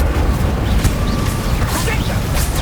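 An Incendio fire spell cast in Hogwarts Legacy gives a short burst of whooshing, crackling magic over constant rumbling combat noise, with a voice speaking over it.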